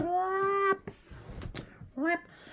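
A cat meows loudly and close, one long drawn-out call followed by a shorter second meow after a quieter gap with some background noise.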